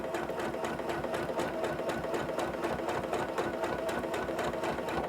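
Janome CM17 sewing machine with a walking foot stitching a wavy locking stitch on a quilt, a rapid, even mechanical chatter of needle strokes running steadily and close, no talking.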